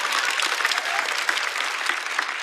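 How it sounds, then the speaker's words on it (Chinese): A stand-up comedy audience claps for a performer, dense and even applause filling the room for a couple of seconds with no talk over it. "掌声送给郑宇潇。"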